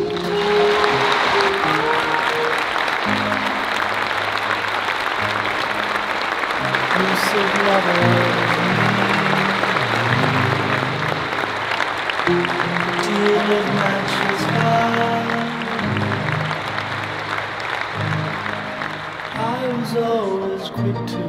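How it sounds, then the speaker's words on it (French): A crowd holds a long, steady round of applause in tribute to someone, loud and unbroken for over twenty seconds, with tonal music or voices running beneath the clapping. "une minute d'applaudissements pour lui, s'il vous plaît"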